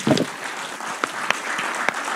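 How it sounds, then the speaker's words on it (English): Audience applause at a university teaching and learning center launch; a moderate, fairly thin patter of clapping with a few sharper individual claps standing out, fading and continuing across the clip. "Can we give them a better round of applause?"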